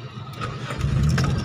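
A small-body Toyota car engine starts with one click and then settles into a quiet, smooth idle. The low engine rumble is close and rises midway through the short stretch.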